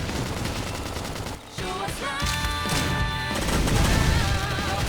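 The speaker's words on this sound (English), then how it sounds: "Topple him with some gunfire!" Gunfire in a Xenoblade Chronicles X battle comes as dense, loud bursts and crashes layered with game effects and music, continuous and rising toward the end.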